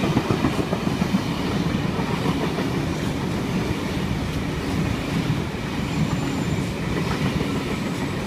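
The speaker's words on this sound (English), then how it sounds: "there's a train on platform 6" A Sydney Trains V-set electric passenger train, cars V41 and V36, rolls along at the platform at Blacktown station during the morning peak with a dense, steady rumble and clatter of wheels, loud and close throughout, with no voices.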